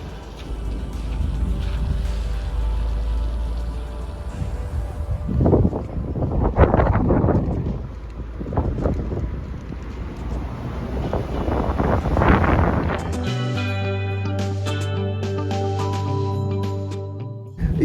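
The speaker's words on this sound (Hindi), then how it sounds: "बहुत तेज हवा, ये देखिए बहुत तेज हवा, बहुत तेज।" Strong, cold mountain wind at the Atal Tunnel north portal in Lahaul, Himachal, roars continuously into the microphone, swelling in loud gusts, with a low engine hum near the end.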